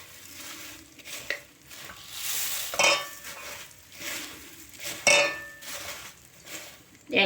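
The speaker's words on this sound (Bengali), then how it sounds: "এরপর এই খইগুলোকে অল্প অল্প করে দেব, আর এইভাবে মাখাতে শুরু করব" Warm jaggery is worked into puffed rice (khoi) little by little for Joynagar moa, giving scraping stirs and utensil clinks against a pan with a faint sizzle, close and moderately loud, no talking.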